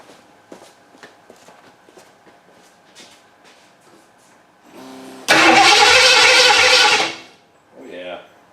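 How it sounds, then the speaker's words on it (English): A Ford Granada with open headers cranks loudly for about two seconds after some footsteps and rustling nearby, then a brief second burst follows. "we'll turn it on and see if it cranks anyway"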